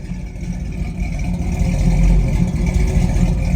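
A 1969 Chevrolet Camaro RS/SS with dual exhaust idles steadily, a deep, continuous low rumble that swells slightly midway and holds close and fairly loud, with no talking over it.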